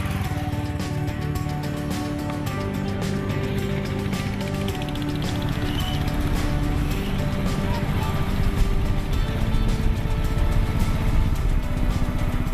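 Royal Enfield motorcycle riding along a road in Rajasthan, a steady, close engine drone with rhythmic mechanical clatter and wind, running continuously at an even pace.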